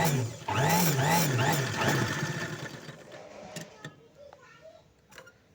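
A sewing machine stitches a buttonhole, its fast rhythmic whir running loud and close for about two seconds before it slows, fades and gives way to a few light clicks and taps.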